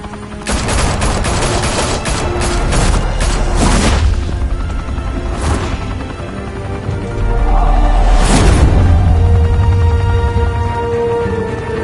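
Cartoon gunfire and explosions from a Batman animated series rattle in a dense, loud barrage, with rapid shots and heavy booms swelling around the middle and again near the end, no talking.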